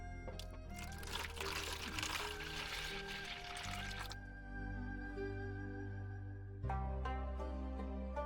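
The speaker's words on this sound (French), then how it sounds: "On va remplir les bacs avec cette eau." Pond water is poured into tubs at a garden greenhouse where medaka fish are kept. A steady pouring rush runs for several seconds and then gives way to a lighter trickle.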